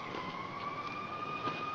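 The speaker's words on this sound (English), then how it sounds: "Those are the sirens I was telling you about." Faint, steady wailing police sirens drone in the distance over low traffic rumble, holding two steady tones without rising or falling.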